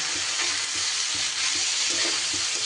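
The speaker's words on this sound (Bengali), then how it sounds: "সব কিছু এবার খুব ভালোভাবে হালকা হাতে নাড়িয়ে একটু ভাজা ভাজা ভাব করে নেব" Washed lentils and broken wheat sizzle steadily in a hot oiled pan while a spoon scrapes and stirs through them in regular strokes, close and clear with no talking.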